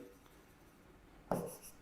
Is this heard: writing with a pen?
yes